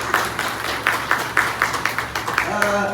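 Audience at a felicitation and career counselling event claps for an honoured teacher, steady rhythmic hand claps from a small crowd, moderately loud, with faint voices underneath.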